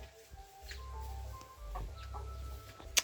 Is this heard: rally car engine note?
no